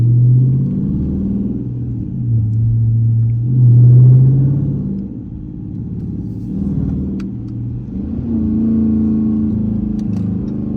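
A Dodge Charger R/T with the 5.7-litre engine drives along, its close, deep rumble swelling and easing as it pulls, swelling most strongly midway and again near the end, with no talk.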